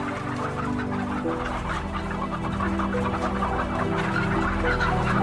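Hens crammed into battery cages in a laying warehouse cluck continuously as a dense, overlapping chorus, with no pauses in the flock's noise.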